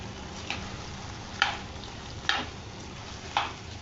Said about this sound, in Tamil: கொஞ்ச நேரம் அப்படியே வதங்கட்டும்